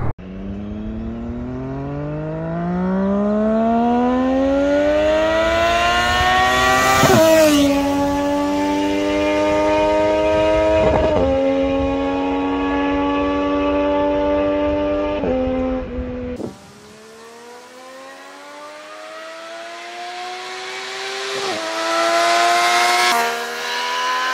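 A Triumph Daytona sport motorcycle engine revs up through several rising gear pulls, with sharp shift breaks between them, then settles to a lower drone before one last climbing rev near the end. It is loud and close, with no talking.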